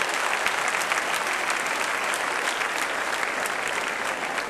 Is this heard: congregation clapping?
yes